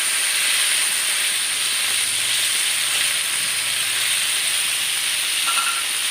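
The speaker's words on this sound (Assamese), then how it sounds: "যেতিয়ালৈকে ইয়াৰ পৰা তেল নোলায় আৰু ৰঙচুৱা নহয় তেতিয়ালৈকে মই এইখিনি ভাজি ল'ম" A fish head fries in hot oil in a home kitchen, giving off a steady, dense sizzling hiss that holds level and close for the whole stretch with no speech.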